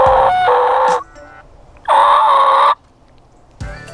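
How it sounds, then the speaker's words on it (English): Loud, raspy turkey yelps from a mouth call come in three close bursts, each a run of sharp nasal notes with pauses between. "you're gonna need to be able to move air over the call and make a sound like this"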